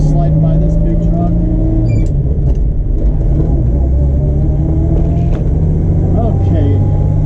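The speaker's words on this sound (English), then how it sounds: "just sliding by this big truck" A rare car cruises past a big truck on the road, with a steady low engine and road rumble throughout and a voice talking over it.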